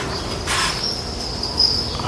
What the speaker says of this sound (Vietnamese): Dế quá trời dế.